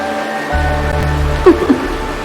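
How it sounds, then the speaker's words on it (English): Rain patters steadily in a Honkai: Star Rail scene, a gentle continuous wash under a low sustained musical tone, with a couple of soft plinks partway through. "This is the sound of rain."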